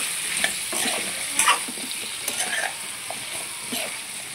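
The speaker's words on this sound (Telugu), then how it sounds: "ఇది ఒకసారి బాగా కలుపుకోవాలి" Pumpkin dappalam curry being stirred in a pan, with a spoon scraping and clinking in uneven strokes over a gentle steady sizzle, close and fairly quiet, no talk.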